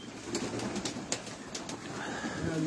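Pigeons coo softly at a breeders' loft, a few low murmuring calls at moderate distance over a faint, busy background.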